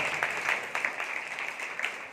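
Church congregation clapping together at a Good Friday service, a steady, continuous wash of many hands with no single beats standing out, moderately loud and filling the room.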